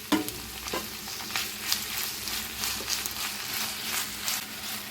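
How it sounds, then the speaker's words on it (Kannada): Tomato, mint and coriander frying and being stirred in a pan for mutton chops, a steady low sizzle broken by soft scraping strokes, alone and moderately quiet. "ಇದೆಲ್ಲ ಚೆನ್ನಾಗಿ ಫ್ರೈ ಮಾಡ್ಕೊಳ್ಳೋಣ"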